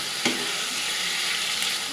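Fish fries in a pan with turmeric and chili masala, giving a steady, moderately loud sizzling hiss close by, with a single soft scrape of stirring near the start.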